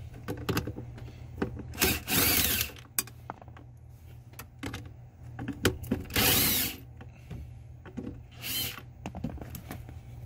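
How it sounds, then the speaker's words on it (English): A 7 mm socket works PCM bolts loose on a Ford Super Duty, with bursts of ratcheting and scraping, metallic clicks and taps over a low steady hum. "You'll need a seven millimeter socket to remove the PCM."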